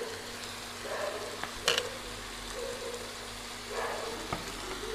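Vegetables in a pan being mixed with salt, turmeric and vegetable spice mix for a rasa curry, a quiet steady sizzle broken by a few soft scrapes and one sharper clatter of the spoon.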